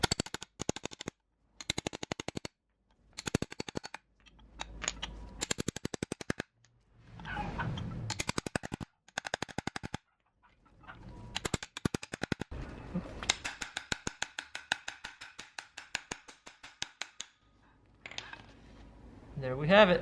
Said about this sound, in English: So now we're going to have to use a chisel.